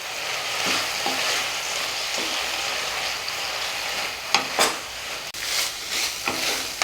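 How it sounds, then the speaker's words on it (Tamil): Coriander stems sauté in a pan for a chutney, giving a steady bright sizzle and hiss throughout, with a few scraping stirs and utensil knocks growing more frequent toward the end, and no talking. "கொஞ்சம் நேரம் அது நல்லா சுருண்டு வதங்குற வரைக்கும் மட்டும் வதங்கினா போதும்."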